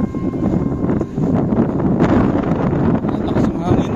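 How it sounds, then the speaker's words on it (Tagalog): Strong gusting wind buffets a handheld phone microphone outdoors near Tennoji Park in Osaka, producing a loud, continuous rumbling roar that swells and dips throughout with no clear voices. "Lakas ng hangin na."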